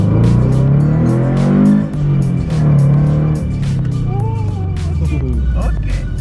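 A Subaru BRZ running on E85 accelerates hard on a dyno, its engine roaring loudly and steadily, with some voices underneath.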